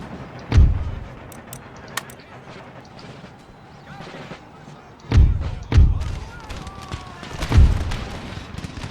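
Musket volleys from massed troops on an Empire: Total War battlefield, a few heavy booming thuds spaced seconds apart, one alone early and a cluster of three later, over a low battle rumble with scattered smaller cracks.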